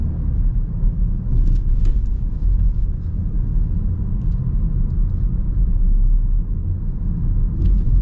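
A 2026 BMW X1 with a 7-speed transmission cruises along, its low road rumble and engine drone heard from inside the cabin, steady throughout with a few light clicks and rattles.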